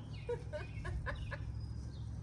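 Chickens clucking in a short series of quick, faint calls, somewhat distant over a low background hum.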